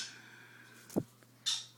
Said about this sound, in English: He's such a silly bird.